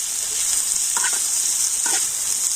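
Vegetables fry with onion, chili and salt in a pan, a loud continuous close sizzle with two brief stirring scrapes.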